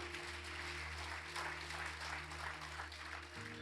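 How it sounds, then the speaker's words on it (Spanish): A church congregation applauds steadily, a full wash of clapping over a sustained low keyboard or organ tone that shifts near the end. "Dale un aplauso al Señor"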